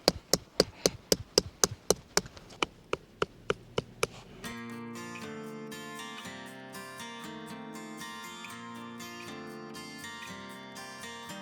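Sugarcane pounded with a hammer outdoors while camping in a Thai national park: about a dozen sharp, evenly spaced knocks, loud and close, followed by a stretch of steady background sound.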